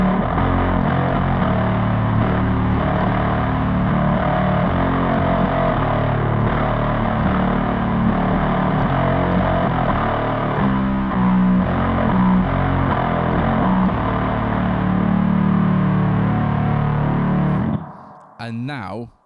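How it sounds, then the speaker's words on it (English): Bass guitar played through a signature distortion pedal, a thick, loud, continuous fuzzy drone with sustained low notes for most of the clip, cutting off near the end. "It sounds just ridiculous. Like, how can you not like that as a bass distortion?"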